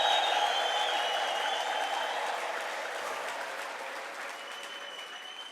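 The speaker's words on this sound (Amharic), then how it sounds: "ታላቅ እልልታ፣ ጭብጨባ፣ ምስጋና ታመጣለህ።" A church congregation claps and cheers in a sustained burst of applause, dense and even at first and slowly fading, with faint voices mixed into the crowd noise.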